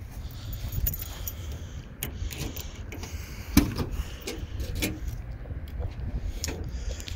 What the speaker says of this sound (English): let's pop this trunk so I can show you the trunk as well